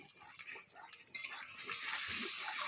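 Eggplant and potato pieces seasoned with salt and turmeric fry in a pan with a rising, hissing sizzle and bursts of stirring and scraping, close and fairly loud by the end.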